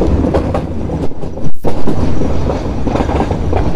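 A meter gauge train running on rails between Bahraich and Mailani Junction, near and loud, with steady rumbling and rhythmic clickety-clack of wheels over rail joints, briefly dipping and returning.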